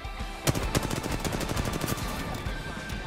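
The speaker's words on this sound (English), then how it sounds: "there's people shooting at us" Rapid automatic gunfire in Apex Legends, sharp close shots mixed with dense bursts of shooting that continue throughout at steady loudness.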